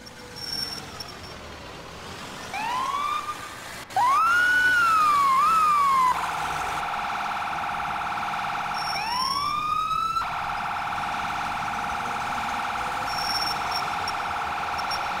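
An ambulance siren in the EmergeNYC emergency-response video game wails and yelps in rising and falling sweeps, then settles into a steady high electronic tone amid traffic, loud and close with no talk.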